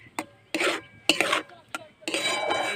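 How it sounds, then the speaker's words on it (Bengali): Semolina is stirred and cooked in a pan in short bursts of scraping and rasping, with clinks of a utensil against the metal between strokes and a faint sizzle underneath, no talking. "দিয়ে সুজিটা আমি একটু রান্না করে নেবো যতক্ষণ না একটা দইয়ের আকারে পরিণত হচ্ছে"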